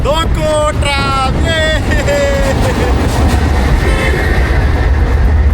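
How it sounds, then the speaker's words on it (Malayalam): A tram approaching on a Budapest street makes a loud, steady rail rumble with wind buffeting the microphone. Shrill squealing tones ring out early, and someone talks over the noise. "അതാ അങ്ങനെ ആ ട്രാം വന്നുകൊണ്ടിരിക്കുകയാണ് സുഹൃത്തുക്കളെ. നോക്കൂ, ട്രാം."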